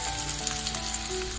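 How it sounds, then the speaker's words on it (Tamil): Curry leaves sautéing in a pan of chayote kootu, giving a continuous, close, bright sizzle with a faint stirring scrape underneath, and no voices. "போட்டு கொஞ்சம் நேரம் வதக்கி விட்டு"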